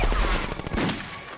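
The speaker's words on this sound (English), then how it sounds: "Gunfire rains." Dense, loud gunfire from an action movie fight scene with flying machines and an airship, rapid overlapping shots in a continuous barrage.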